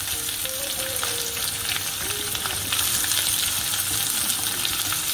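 Onions sizzle steadily in hot oil in a pan for crab masala, with a bright, continuous frying hiss and a few faint clinks of stirring throughout.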